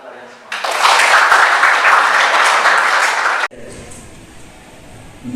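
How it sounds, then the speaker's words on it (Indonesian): Schoolchildren in a classroom applauding together, a loud dense burst of clapping lasting about three seconds that stops abruptly, followed by quieter room noise. "Terima kasih tepuk tangan untuk kalian semua"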